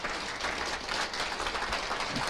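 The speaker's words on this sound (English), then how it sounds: "they deserve a big round of applause for all their work so far" Audience applause for outgoing volunteers at a community annual meeting, a steady wash of many hands clapping throughout, even and moderately loud.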